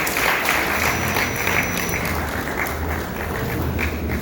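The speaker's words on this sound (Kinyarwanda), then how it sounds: "komera amashyi menshi komera amashyi menshi" An audience at a ceremony honouring beauty pageant contestants gives a dense, steady burst of clapping that holds at an even level for several seconds, with a faint voice in the background.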